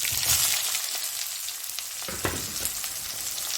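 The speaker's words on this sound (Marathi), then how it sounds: "याला थोडं भाजून द्यायचं आहे कांद्याला" Chopped onion roasting in a pan with garam masala and spices for a chicken cheese recipe, a loud close crackling sizzle with a few stirring scrapes, steady and unbroken by talk.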